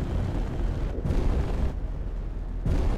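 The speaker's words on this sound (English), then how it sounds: "Oh, that's a satisfying explosive." Rumbling explosion in the space-combat game Space Engineers, a continuous heavy roar with deep low-end booms that swell and surge across the whole stretch, loud and close with no talking.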